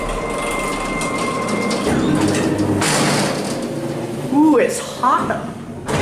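A Thyssenkrupp hydraulic freight elevator with powered doors runs with a steady low mechanical drone and rumble. A louder clunk comes partway through, and squeaky door or motor tones follow near the end. Someone talks over it.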